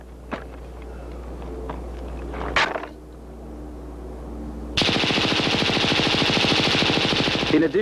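An HK-21 machine gun fires a sustained automatic burst, a dense rapid rattle of shots that starts abruptly after a few scattered clicks and handling noises, loud and outdoors at a 1970s firepower demonstration.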